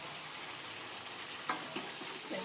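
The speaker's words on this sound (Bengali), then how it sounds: "জল অ্যাড করব, দিয়ে আবার ঢাকা দেবো" Vegetables frying in a pan sizzle steadily and close by as a little water is added, with a few soft clanks and stirring taps near the end; no voices.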